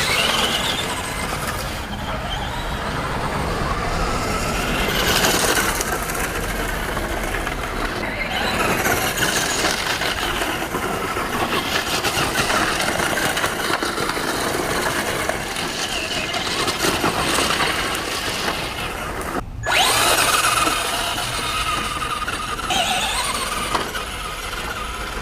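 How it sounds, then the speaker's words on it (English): A Traxxas 2WD Ford Raptor RTR radio-controlled truck running on outdoor gravel in open space, with a continuous high electric whine mixed with gritty crunching that goes on at length and drops out briefly once before resuming. "Just first run it real quick here in the gravel."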